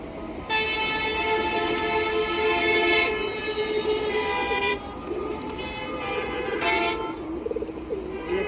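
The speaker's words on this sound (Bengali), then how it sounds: "মার্শাল্লাহ অনেক সুন্দর একটা নর কবুতর" A male pigeon coos steadily nearby, its rolling calls layered with a loud, tonal toot-like hum that swells and fades, while a voice murmurs faintly in the background.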